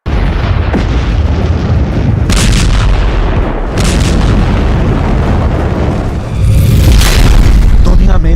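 Deep, heavy booms of explosions roll out in succession, loud and rumbling, with sharp bursts between them.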